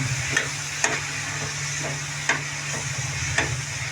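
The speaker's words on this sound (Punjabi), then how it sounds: "ਵਧੀਆ ਤਰੀਕੇ ਨਾਲ ਭੁੰਨਣਾ ਚਾਰੇ ਪਾਸੇ ਹਲਾਉਣਾ" Grated pumpkin roasting in a pan for pumpkin barfi, a steady close sizzle and hiss with a few sharp scrapes and clinks of a utensil stirring and scraping against the pan, no voices.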